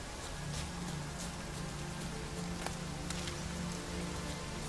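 Steady rain pours down in The Witcher 3 video game, a dense continuous patter with occasional louder drops, no voices present.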